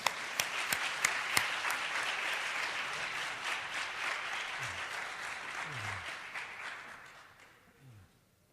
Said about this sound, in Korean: 우리 다 같이 한번 박수로 한번 모시겠습니다